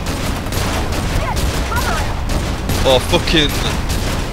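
Bursts of gunfire from F.E.A.R. 2 crack in repeated volleys with booming impacts, while a player talks and swears over the shooting.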